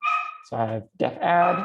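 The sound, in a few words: dog barking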